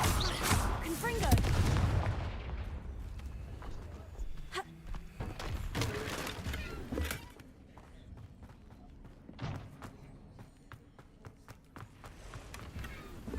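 Confringo spell explosions in Hogwarts Legacy: a loud blast and rumble at the start, then scattered sharp bangs and thuds trailing off into quieter impacts, with footsteps and a voice casting spells.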